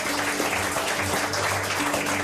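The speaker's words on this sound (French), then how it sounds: "On peut les applaudir tous les deux" Applause for two restaurant owners, one named Anthony, in their busy restaurant, a steady short burst of clapping with a low hum and faint voices underneath.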